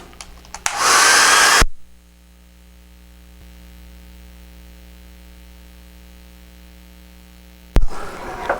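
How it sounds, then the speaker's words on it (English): A hair dryer drying watercolor paper roars loudly for about a second, then cuts out, leaving a low electrical hum before another short blast at the end. "I'm going to turn off my microphone and turn on my dryer here."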